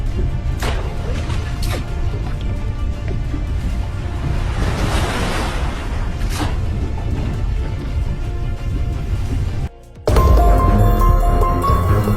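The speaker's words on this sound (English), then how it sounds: "a swimming pool during the earthquake in Turkey, with the water shaking and sloshing from the powerful tremors" Water in a swimming pool sloshing and churning as powerful earthquake tremors shake it in Turkey, a loud continuous rushing wash with wind buffeting the microphone and a sudden louder surge near the end.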